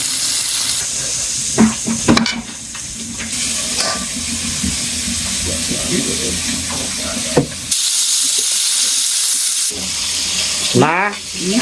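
Taki fish frying in oil in a pan with chilies, giving a steady hissing sizzle broken by clattering stirs and brief bursts of spatter.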